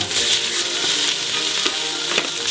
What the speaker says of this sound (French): Peau en premier, comme ça. Et je vais les faire saisir.